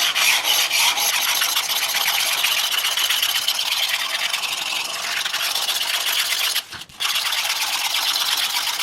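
Knife sharpened on an 800 grit plate with light pressure, heard as a continuous close scraping rasp of steady strokes that pauses briefly near the end.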